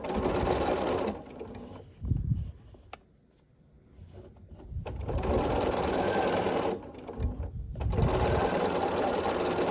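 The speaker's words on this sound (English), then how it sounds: "turn it sideways and line up a top bottom on here and start sewing" A sewing machine stitches quilt block pieces in steady bursts of rapid whirring, pausing briefly twice between runs, close and clear with no talk over it.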